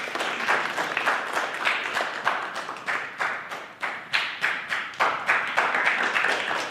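A crowd claps for a volunteer at a public speaking talk, with clearly separate rhythmic claps in a fairly small, moderately loud group that keeps a steady pulse throughout.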